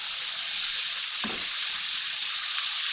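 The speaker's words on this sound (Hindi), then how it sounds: "गाजर, प्याज, हरी मिर्च इसके साथ मैं इसको फ्राई करूंगी" Chopped carrots, onion and green chili fry in a pan with a bright, steady sizzle that fills the short stretch, marked by a single dull thump of stirring partway through.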